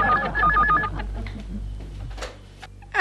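A telephone ringing in a Hindi family comedy, an electronic warbling ring tone sounding twice in quick succession at the start, followed by brief clicks and quieter room noise.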